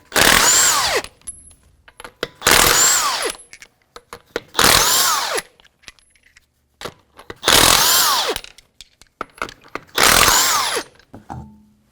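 A pneumatic impact wrench with a 21mm socket spins the lug nuts off the right front wheel of a 2009-2014 Nissan Maxima V6 3.5. It makes five loud, close whirring bursts, each about a second long, separated by brief pauses and small clanks.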